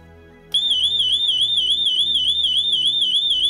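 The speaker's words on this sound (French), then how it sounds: "le son de l'alarme n'est pas super fort" A home security alarm siren, set off by an SOS button, starts suddenly and holds a loud, warbling high tone, pulsing rapidly and steadily without a break.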